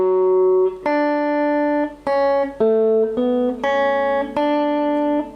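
Guitar picks out a slow melodic phrase from a song, about seven clear plucked notes in sequence, each ringing and sustaining before the next, played alone with no talking.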